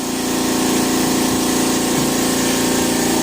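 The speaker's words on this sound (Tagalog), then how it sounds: "Pagpapasensyahan na lang po yung tunog ng compressor natin." An air compressor runs steadily and loudly throughout while artificial wood varnish is sprayed onto solid dau wood, a constant droning hum with no break and no talk.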